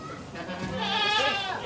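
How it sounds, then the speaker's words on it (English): A baby goat named Maverick bleats on a small farm in Homestead, Florida, one wavering, drawn-out cry that rises and falls close by, with a child and an adult talking softly around it. "I get to feed the baby goat"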